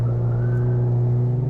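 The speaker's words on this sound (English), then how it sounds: "a muffler that makes this car sound like a real race car" Engine of a 2016 Nissan Micra Cup race car breathing through a cold air intake and aftermarket muffler, a steady loud low drone holding an even note, close and alone with no talk.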